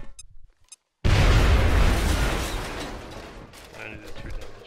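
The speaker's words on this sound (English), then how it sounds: "I feel like I want to throw a grenade." A grenade detonates in the turn-based strategy game XCOM: Enemy Within, a loud, near boom that bursts in after a brief silence and rolls off into a long rumbling decay with faint debris crackles.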